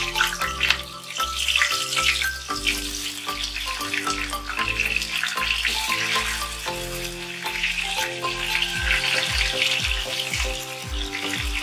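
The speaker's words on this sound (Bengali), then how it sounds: "জলটা ফেলেই কড়ার মধ্যে দিয়ে দিচ্ছি" Marinated pointed gourd hits a hot wok and fries with a steady, bright sizzling hiss that runs the whole time, partly under loud background music.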